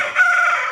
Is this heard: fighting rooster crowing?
yes